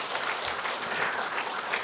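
A church congregation at a Sunday worship service claps together in a brief, dense burst of applause that stays steady and fairly full throughout.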